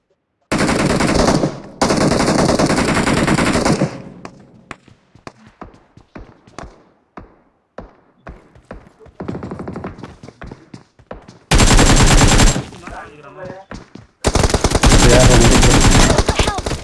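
Gunfire in the mobile battle-royale game BGMI: long rapid automatic bursts, scattered single shots and clicks, then more sustained loud automatic fire, all harsh and close.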